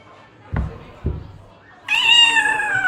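A cat meowing in the video game Daggerfall Unity: two short thumps at first, then a single clear, drawn-out, high meow that fills the last second, close and loud.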